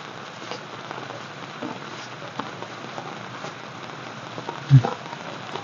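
Steady light rain patters on surfaces in Davao City, with scattered drips and a single louder knock near the end; no voices.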